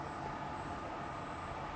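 Continuous rumbling roar of a former London Underground District line train running on Ryde Pier, steady and fairly close, with a faint high whine over the wheel noise and no talk.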